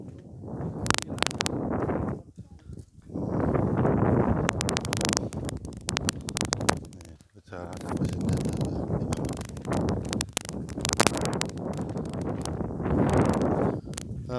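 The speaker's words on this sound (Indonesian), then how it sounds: "kalau di tengah laut jam-jam segini tuh keluar angin" Wind gusts buffet the microphone at Cangbin harbour, a steady rough rush that surges and drops in long waves, with a brief lull about midway.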